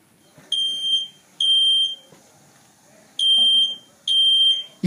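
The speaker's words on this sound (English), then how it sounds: "On detecting smoke or fire at home, the fire alarm starts ringing." A smoke-alarm-style fire alarm from the FirstFireAlert iPad app sounds loudly in four shrill bursts, each lasting under a second, separated by short gaps and one longer pause.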